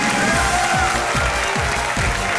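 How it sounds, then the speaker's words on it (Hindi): Studio audience applause on the KBC quiz show set, a steady dense wash of many hands clapping at close range, with a low rhythmic thump running beneath it. "तालियां और शोर मचना चाहिए उनके लिए।"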